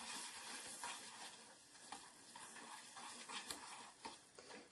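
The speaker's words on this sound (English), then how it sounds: "Now to give this a proper stir, I'm just going to grab the handle, turn it round." A melting mixture is stirred in a pan on the stove, with a soft scraping and gentle sizzle at low volume and a louder knock at the very end.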